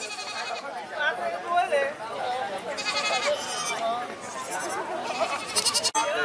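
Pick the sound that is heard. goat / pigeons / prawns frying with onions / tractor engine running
goat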